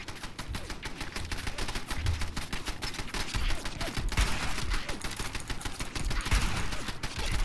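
Gunfire from a slow-firing gun in the video game Fallout 4: a long sequence of sharp, loud shots in quick succession, mixed with heavier booms and a dense battle backdrop.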